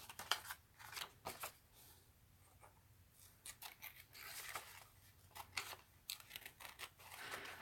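Scissors snipping paper pieces cut out for a reverse collage art journal page, a series of short crisp cuts in irregular bursts, close and fairly quiet, with no one talking.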